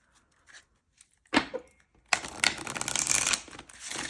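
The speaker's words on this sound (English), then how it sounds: "So one more shuffle." Tarot cards being shuffled by hand, with a soft rustle near 1.4 s, then a dense, close, crackling riffle that runs steadily for about two seconds before easing off. No one speaks.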